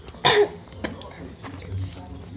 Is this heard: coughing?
yes